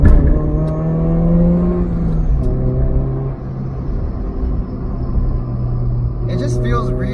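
A supercharged Honda Fit GD3 engine hums close by in a steady, rising and settling drone of tonal harmonics, with shifts in pitch as the throttle changes.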